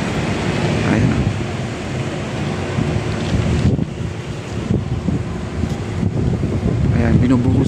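Heavy rain pouring steadily outdoors at a street construction site with fresh asphalt, a dense continuous hiss under wind buffeting, faint voices and work noise mixed in.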